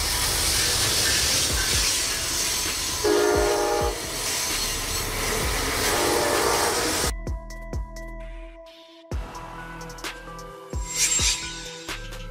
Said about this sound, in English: Commuter train. A train service designed to transport passengers between residential areas and city centers during peak commuting hours.